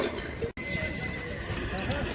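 A stallion whinnies amid a busy outdoor livestock market crowd in Shymkent, Kazakhstan, with hoof clops and voices chattering in the background.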